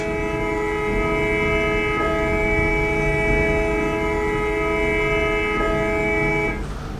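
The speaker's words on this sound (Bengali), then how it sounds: "হর্ন দিয়ে তো এলাকা গরম করে দিলি" A vehicle horn in the Map of Bangladesh driving game blares loud and unbroken for nearly the whole stretch, a sustained harmonic tone that cuts off just before the end.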